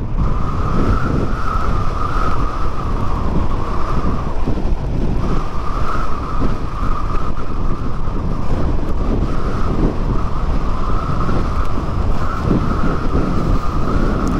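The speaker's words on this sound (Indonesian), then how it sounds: "Anginnya cukup kencang." Strong wind sweeps across open rice fields in Karawang, a loud, constant roar buffeting the microphone with a steady rumbling drone throughout and no voices.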